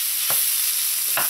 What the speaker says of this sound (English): When your oil is hot, add in your minced meat. You want to brown this minced meat.